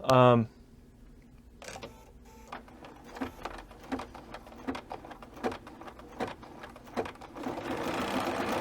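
Bernina B990 sewing machine stitching fast through fabric that is not a real quilt: a steady run of rapid mechanical stitch clicks near the mic, building into a continuous whir toward the end.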